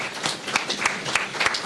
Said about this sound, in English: So put your hands together for Pat Brown,